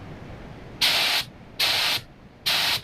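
ANI LVLP mini spray gun spraying thick clear coat at 2.6 bar, three short hissing bursts of about half a second each, evenly spaced and close, with a faint background between them.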